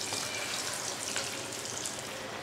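Potato egg kababs frying in hot oil give a steady, broadband hiss with fine crackling, close and constant throughout, with no voices.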